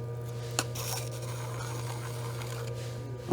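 Clay plate edge being smoothed on a spinning potter's wheel, a soft continuous rubbing rasp over a low steady motor hum, with a couple of faint light taps.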